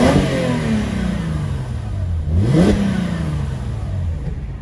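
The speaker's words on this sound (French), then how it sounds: "Et comme on est sur un V6, on va quand même écouter le bruit de ce moteur." A second-generation Mercedes SLK 350 with a V6 engine is revved up close, its loud engine note climbing, peaking sharply, then dropping back toward idle within a few seconds.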